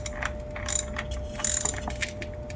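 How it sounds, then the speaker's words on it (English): A heavier wrench tightening the battery terminal on a 2012 Hyundai, giving a few quick ratcheting clicks in short bursts, close and fairly quiet. "you may want to get your heavier wrench out"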